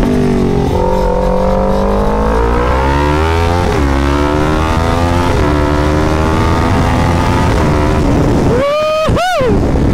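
A Kawasaki Ninja 400 engine drones and revs continuously with a buzzing vibration from the steering damper, rising in pitch near the end as it accelerates.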